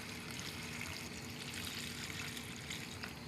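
Bean liquid poured from a cup into a pot of minestrone soup, a soft, steady watery trickle heard faintly and continuously with no talking.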